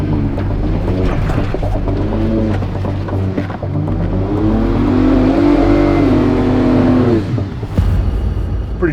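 An off-road vehicle in 4-low grinds up a deep-sand incline with a loud, strained engine drone that climbs in pitch midway as it labors, then dips near the end.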